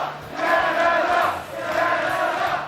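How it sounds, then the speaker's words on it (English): Spectators at a Super Smash Bros. Ultimate esports tournament cheer and roar in two loud swelling waves, a big crowd filling the venue. "and you hear the crowd"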